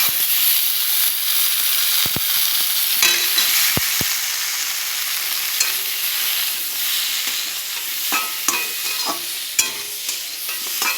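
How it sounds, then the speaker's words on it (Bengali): Potatoes, pointed gourd and onions fry in a pan with a loud, steady sizzle, broken by sharp stirring clacks and scrapes of the spatula against the pan. "আলু পটল পেঁয়াজের সাথে খুব সুন্দর করে একটু ভাজবো"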